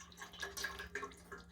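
Liquid herb medicine is poured into beeswax for a healing salve, giving faint, close dripping and trickling sounds in an irregular patter over a low steady hum, with no talking.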